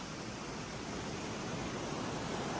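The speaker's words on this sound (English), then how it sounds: "I can see and hear the river" Steady rushing river water flows below a steep forest hiking descent, a dense continuous hiss that stays even and unbroken, heard alone without voices.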